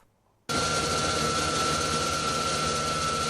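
Snowmobile engine at a steady high-revving drone, loud and close after a sudden start, carrying a constant whine over a rough low rumble, heard while travelling through snowdrifts in wild forest.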